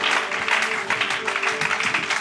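A church congregation claps and applauds the Lord in a steady, dense burst of hand-clapping that fills the room, fairly loud and continuous throughout.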